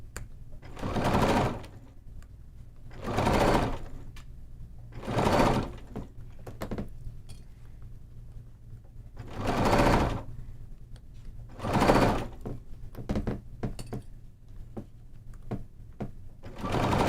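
A sewing machine stitches binding onto a quilt along its folded edge, running in six short whirring bursts separated by quiet pauses, close and fairly soft.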